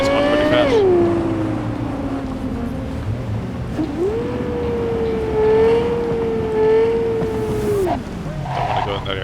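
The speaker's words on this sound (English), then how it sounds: "That Mustang's going pretty fast." A Mustang speeding through city streets in the video game Cyberpunk 2077, with a loud, steady engine drone that rises and falls in pitch as it shifts, close and continuous, with faint talk underneath.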